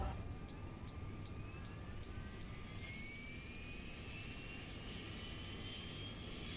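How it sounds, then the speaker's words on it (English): Airbus A350 auxiliary power unit and engines in the MSFS flight simulator game, a low steady turbine drone with a rising whine and a short run of beeping tones near the start, no talking. "So let's start the APU."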